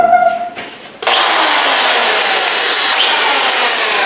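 A power drill boring a hole into concrete during a crack repair starts abruptly after a brief quiet moment, then grinds loudly and steadily up close.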